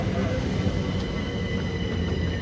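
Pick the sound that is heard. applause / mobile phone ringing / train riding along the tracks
train riding along the tracks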